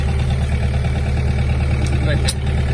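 A Mitsubishi MT-26 mini tractor engine runs steadily nearby as the machine gets ready to move off, a continuous low, even rumble with a faint clink or two over it.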